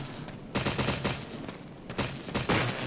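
Gunfire in the Resident Evil HD Remake video game: several loud shots fired in two quick bursts about a second and a half apart, each with a short crackling tail, no talking.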